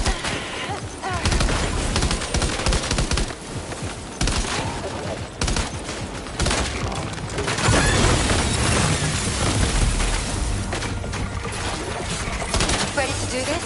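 Dense, continuous gunfire in Death Stranding 2, made of rapid overlapping bursts and loud cracks that hardly let up. It is mixed with other game noise and occasional voices.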